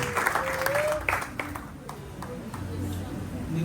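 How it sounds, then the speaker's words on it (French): A church congregation applauds loudly for the Lord during a prophetic service. Scattered sharp claps are mixed with crowd noise and voices, and the applause thins out toward the end. "On acclame très fort pour le Seigneur."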